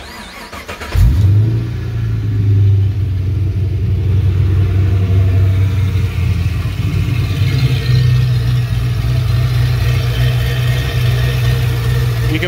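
An LS-swapped BMW E38 740iL cranks and fires up, then settles into a steady, loud idle with light throttle blips, close up and alone with no talking.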